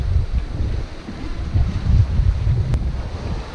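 Strong headwind buffets a sailboat close-hauled at sea off the Spanish coast, a loud continuous low rumble of gusts and microphone wind noise with waves rushing underneath.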